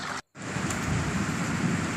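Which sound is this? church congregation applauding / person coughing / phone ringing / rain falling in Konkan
rain falling in Konkan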